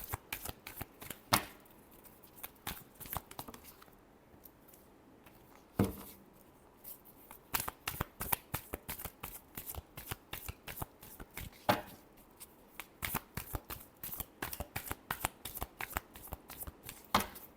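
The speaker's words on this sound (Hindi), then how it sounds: "Last shuffle." Tarot cards are riffled and shuffled by hand in rapid bursts of crisp flapping snaps, repeated many times close up with no talking.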